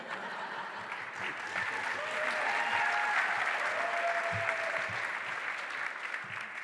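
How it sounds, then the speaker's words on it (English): Audience applause welcoming the mayor at a state announcement event, a steady wash of clapping that swells for several seconds, fairly distant, with a few voices faintly beneath it. "Mayor Blask was welcomed with thunderous applause."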